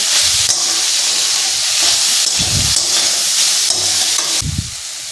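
Soybeans and tomatoes fry in a pan with a fish head, hissing steadily up close while spatula scrapes and stirs thump in at intervals.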